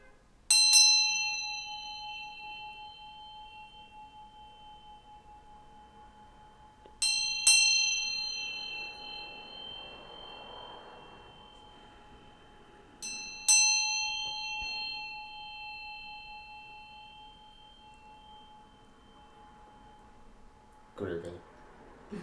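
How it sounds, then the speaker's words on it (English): A bell is struck three times at roughly six-second intervals, each strike ringing out clear and bright before decaying slowly into quiet, with a brief soft knock near the end. "So I'm going to ring this bell."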